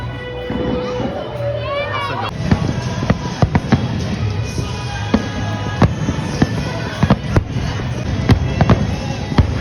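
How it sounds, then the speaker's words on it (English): Fireworks pop and crackle in sharp repeated bursts, some close and loud, over a murmuring outdoor crowd with children's voices at Dollywood, Tennessee. "Look at the fireworks."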